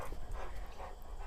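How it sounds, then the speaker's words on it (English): A dog pants and softly whimpers close by indoors in an office, a brief breathy, restless sound with no talking. "He's just the best dog."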